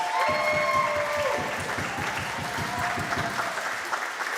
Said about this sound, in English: And let's give them one more round of applause.